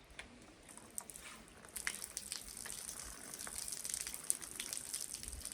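Water poured into hanging plant pots trickles and patters faintly as it drains out through the drain holes, a soft, uneven splashing that grows a little busier toward the end, with no voices.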